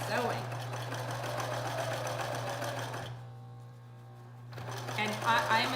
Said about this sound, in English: Get your machine started, and you just start sewing.